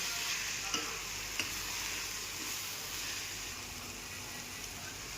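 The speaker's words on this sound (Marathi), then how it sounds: "आता यामध्ये आपण सोयाबीन बारीक करून घेतलेले उकडलेलं यामध्ये चांगलं परतून घेऊया." Boiled, finely minced soybeans are stir-fried in a pan for veg soya momos, giving a soft, even sizzle with a few faint scrapes, fairly quiet and without speech.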